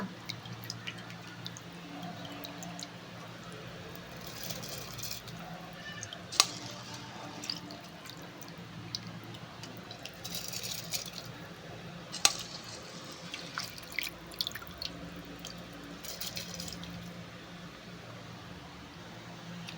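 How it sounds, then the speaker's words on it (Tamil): Rice goes into boiling water in an open pressure cooker for home-style chicken biryani: quiet simmering with scattered soft splashes and drips, a few sharper ticks breaking through, and no talking. "இப்போ அரிசி போட்டாச்சு இப்போ கிண்டி விட்டுக்கலாம்"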